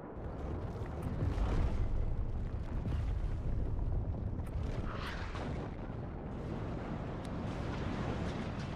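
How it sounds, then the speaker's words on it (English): Enemy artillery shells from WARNO's urban combat pound a high-rise, a dense continuous rumble of overlapping explosions and booms that stays loud throughout with no clear gaps. "Enemy artillery already coming in onto the high rise here."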